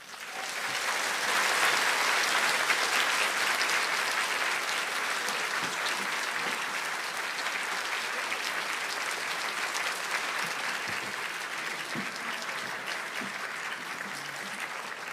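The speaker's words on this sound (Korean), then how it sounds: "여러분, 큰 박수로 맞으세요." A church audience at a festival event bursts into sustained applause, building quickly then holding as a loud, even, continuous clatter of many hands for about fifteen seconds.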